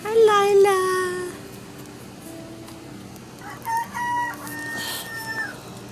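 Hens cluck and a rooster crows up close in a backyard flock, a loud crow at the start followed by scattered clucks and squawks, with a person talking softly to the birds.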